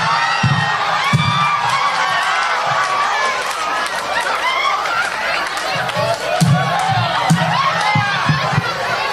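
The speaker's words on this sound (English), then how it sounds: "Y'all, they cheering." Audience at a comedy show cheering and shouting, a loud, sustained crowd roar with whoops and chatter throughout.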